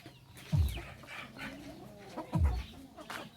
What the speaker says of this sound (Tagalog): Manok ng Papa, tapos manok dito sa likod.